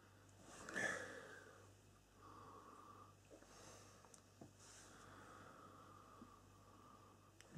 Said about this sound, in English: Let's have a little sniff.